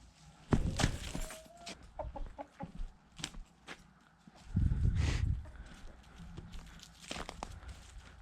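Chickens cluck and call in scattered bursts at moderate distance in a snowy farmyard, mixed with rustling and thumping handling noises, quiet overall.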